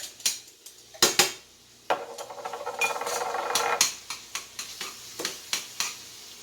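Shrimp and garlic cook in a pan with a sizzle that swells for a couple of seconds, broken by repeated sharp clacks and scrapes of a utensil against the pan, close and without talk.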